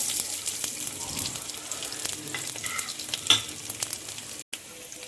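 Green chillies, garlic and whole five-spice seeds sizzle steadily in hot oil in a pan while being stirred, a continuous close crackle with scraping and a few brief louder pops, no talking.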